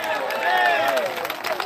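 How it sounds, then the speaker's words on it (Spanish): A church congregation at an evangelistic campaign service claps in a brief burst of applause mixed with cheers and murmuring voices. "Dele fuerte ese aplauso"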